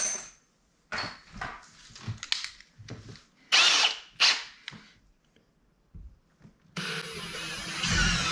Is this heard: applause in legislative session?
no